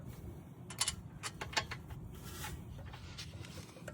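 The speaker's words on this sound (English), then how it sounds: "once I get them going, I will tighten them with the ratchet" Ratchet tightening the rear brake caliper bolts on a 2014–2019 Toyota Highlander, heard as a few quiet clicking bursts close by over a low background hum, with no talking.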